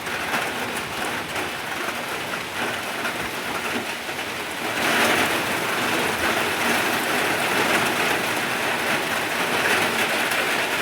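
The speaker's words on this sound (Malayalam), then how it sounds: "മഴയുടെ ശബ്ദം കേൾക്കുന്നു" Rain falls in the evening as a steady, dense hiss that swells noticeably louder about halfway through, with no talking.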